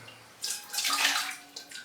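Tap water runs in a steady rushing stream into a container, refilling it for watering cymbidium orchids, the flow swelling and easing alone over about two seconds.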